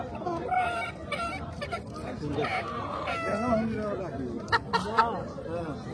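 Roosters and hens at a busy rural market on a river char in Faridpur, clucking with a few sharp calls rising above steady chatter; people talk and haggle throughout.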